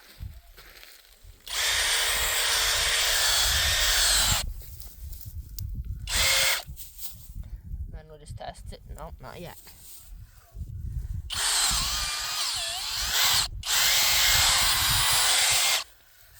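A power drill bores into farm soil to open a gopher tunnel, whirring loudly in two long bursts with a short one between, while a person talks quietly in the pauses.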